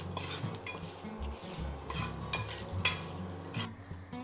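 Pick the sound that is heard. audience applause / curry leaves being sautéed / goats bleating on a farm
curry leaves being sautéed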